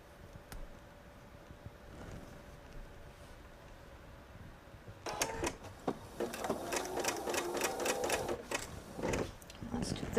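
A sewing machine stitches patriotic quilt fabric, starting after a quiet stretch. It runs as a close, rapid mechanical chatter with uneven stops and restarts.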